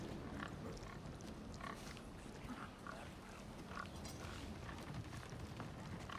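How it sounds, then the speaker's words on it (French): Pigs in the video game Resident Evil 4 Remake give low, soft grunts and snorts at intervals over a dense game background, faint and without talk. "Bougez pas, les cochons."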